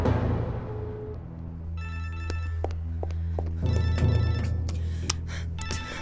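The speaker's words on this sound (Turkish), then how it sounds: "Aç şu telefonu." A telephone rings in a domestic drama scene, repeated electronic ring bursts over a low background hum, fairly close and without speech.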